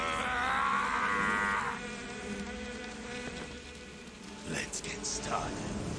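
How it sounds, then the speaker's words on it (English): Swarming bee buzz during The Pain boss fight in Metal Gear Solid 3: Snake Eater, a loud droning hum that swells early then thins under game noise, with a voice speaking partway through. "Bees."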